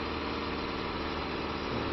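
A Ford TW35 tractor engine in Farming Simulator 25, pulling a Rabe plough, holds steady revs as a continuous low, even drone with mild vibration, heard alone without talk.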